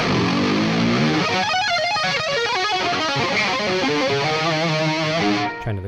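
An electric guitar plays distorted rhythm parts through a Line 6 Helix rhythm channel with a touch of echo, loud and sustained chords and riffs alone, cutting off abruptly at the end.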